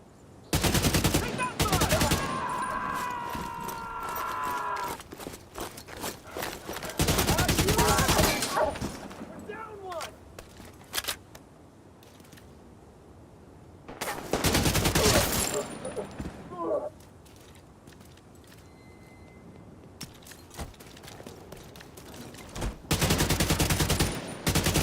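Automatic gunfire from a patrol shootout in Tom Clancy's The Division 2 comes in several loud, close bursts separated by quieter stretches, with voices talking in between.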